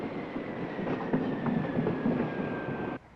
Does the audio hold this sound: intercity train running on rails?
yes